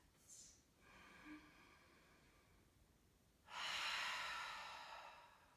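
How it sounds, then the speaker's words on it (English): Slow, deep belly breathing during a beginner vinyasa yoga flow: faint, soft inhales, then a longer, fuller exhale that swells up near the end, close and quiet in an otherwise still room. "Big belly breaths."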